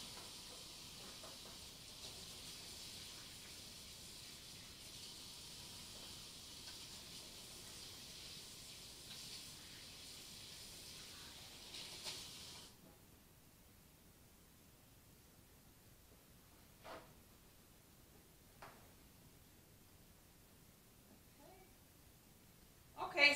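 Hands washed under a running kitchen tap while cooking, a soft steady hiss of water that stops midway, leaving quiet room tone with a few faint knocks and clatters.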